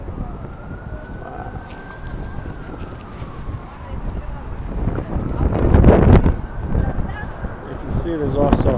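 Strong wind on the Brooklyn Bridge buffets and roars across the microphone, gusting louder midway, with a distant siren wail and faint traffic underneath.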